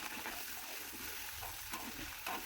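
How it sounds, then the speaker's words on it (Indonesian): Bay leaf, lime leaf, lemongrass, galangal and ginger sauté in hot oil, giving a steady close sizzle with soft stirring scrapes throughout and no talking. "Ini kita akan tumis sampai berbau harum."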